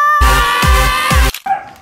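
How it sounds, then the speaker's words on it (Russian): A dog close by gives three quick, loud, high-pitched yelping barks in a row, then a short whimpering whine. "Моя любимая собака."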